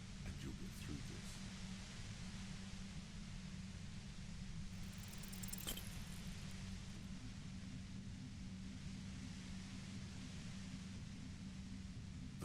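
Harsh, dense white noise from the video game Disco Elysium fills all twelve seconds at a steady, constant level, with a faint brief crackle near the middle.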